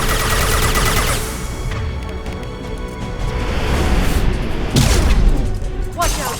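Flashbang grenades and gunfire in Mass Effect 2's Lair of the Shadow Broker combat, with dense loud bursts and booms throughout and sharper blasts near the end, while a voice talks over the fighting.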